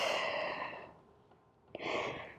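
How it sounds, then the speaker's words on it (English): A slow, soft exhale during a Pilates core exercise, breathy and close, fading out before a short sharp intake and a fresh rush of breath near the end. "Exhale as you round and arch."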